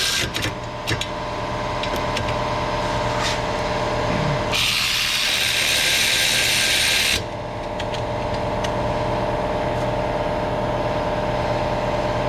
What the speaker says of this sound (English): we're going to reinstall our caliper mounting bracket